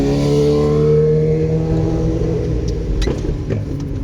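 A car drives home from a market in Odesa with a loud, steady engine hum close inside the cabin, easing slightly toward the end, with light clicks and rattles and no talking.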